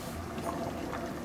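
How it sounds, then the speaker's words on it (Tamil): Water bubbling at a steady boil in a pressure cooker with rice for country chicken biryani, a close, continuous simmering burble with soft irregular pops and no voices. "இது 1 நிமிஷம் அப்படியே கொஞ்சம் நேரம் கொதிக்கட்டும்."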